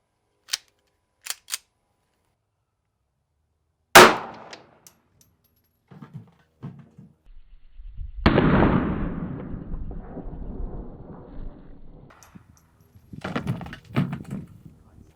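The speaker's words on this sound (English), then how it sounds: "Moving up to a Smith & Wesson handgun here, shooting around a 380." Shots from a Smith & Wesson .380 handgun fired at a bulletproof face mask: a sharp crack near four seconds, a few fainter pops earlier, then a rumbling, scraping aftermath and more clatter toward the end.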